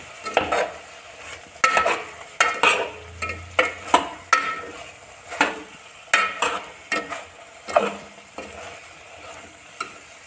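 A spoon stirs tomato and brinjal curry in a pan, scraping in about a dozen rhythmic strokes, each with a soft clink and a brief wet sizzle, close and fairly loud with no talking.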